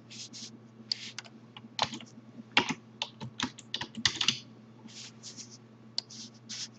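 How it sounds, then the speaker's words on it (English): A computer keyboard being typed on in bursts of quick, irregular key clicks with short pauses between, close and clear over a quiet background hum. "Actually, I go back up and type in grass."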